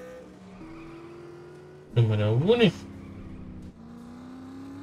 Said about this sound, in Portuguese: Este é o primeiro carro mais parecido com os carros de Fórmula 1 que existe aqui neste jogo